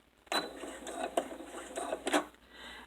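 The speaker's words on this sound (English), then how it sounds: "Put your presser foot down and go a couple stitches and then back stitch" A sewing machine runs a couple of stitches and then back stitches while a zipper is sewn in, giving a few short, faint mechanical bursts of whirring and clacking.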